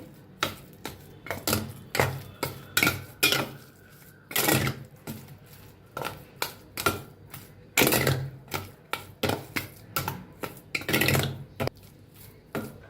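A spoon stirs and scrapes semolina dough mixed with cardamom powder in a bowl, giving a steady run of sharp, close, rhythmic clacks and taps against the bowl with no talking.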